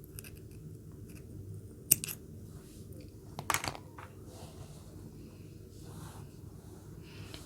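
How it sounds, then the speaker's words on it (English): Yarn being cut with scissors while crocheting a net bag: two sharp, close snips separated by a second or so, against a quiet, hushed room. "then you can just go ahead and cut your yarn"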